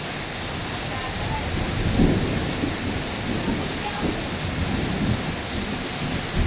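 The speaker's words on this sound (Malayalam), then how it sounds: "ഏതായാലും അടിപൊളി മഴ." Heavy rain pours down with a steady hiss while thunder rumbles low beneath it, a loud, continuous downpour.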